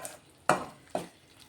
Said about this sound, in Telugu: ఇది ఇట్లా సిమ్లో పెట్టుకొని జర కొంచెం అట్లా కలుపుతూనే ఉండాలి